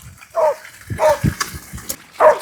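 Sled dogs bark in the Vosges, giving a few loud, close yelps and barks at uneven intervals mixed with lower grunting sounds.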